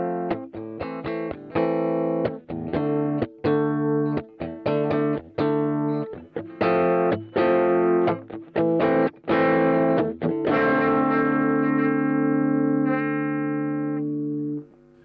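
Strummed electric guitar chords in a rhythmic, choppy sequence, clean at first, then a Boss OD-3 overdrive pedal switches on and the tone thickens into sustained driven chords that ring out at the end.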